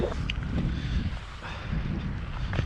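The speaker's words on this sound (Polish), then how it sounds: "najlepiej za wiatrem by było, ale no wszędzie tu wieje" Low rumbling wind buffets the microphone steadily on a Norwegian shore while shore fishing, a broad blustery roar with occasional faint knocks in the background.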